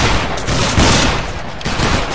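Musket volley fired by a line of soldiers in the Battle Grounds III video game, a loud dense crackling fusillade of overlapping shots that rolls on for about two seconds.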